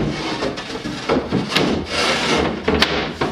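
A sheet of 1/4-inch plywood for a teardrop trailer tongue box shelf is handled and fitted, giving continuous close scraping and rubbing of wood with a few sharper knocks, no talking.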